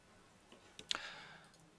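A single faint mouse click, followed by a short soft drag, is heard during work in 3ds Max modelling software.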